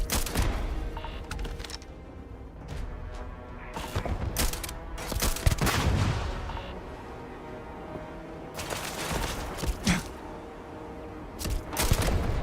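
Base turrets firing in Starfield, bursts of rapid gunfire and mechanical clatter repeating loudly over several seconds between quieter gaps.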